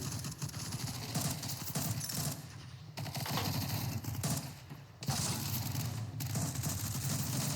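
Rapid bursts of video-game gunfire crackle almost without pause, loud and near, with brief dips in the firing and no clear talk over it.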